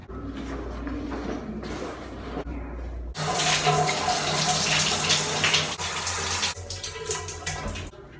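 Shower water running in a gym locker room at a fitness club, a steady broadband spray that starts after a quieter stretch, stays loud and even, then eases off near the end.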